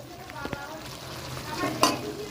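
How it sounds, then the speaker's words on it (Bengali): Meat cooking in a pan, a soft sizzle with scraping and clinking stir strokes and a few sharp taps near the end, heard close and quiet without talking. "আমি এখন গিয়ে মাংসটা রান্না করছি এই দেখো"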